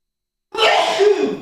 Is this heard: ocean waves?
no